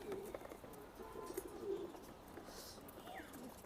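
Large racing pigeons coo in soft, repeated throaty calls, close by over a faint background hiss.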